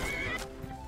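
A horse in the video game Skyrim gives a single short neigh, a quick close whinny that fades within a second.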